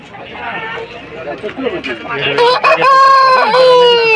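A rooster crows loudly and close, one long drawn-out call with rising and falling pitch, following a stretch of clucking and background chatter at a rooster market in Vijayawada.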